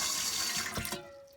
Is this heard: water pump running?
yes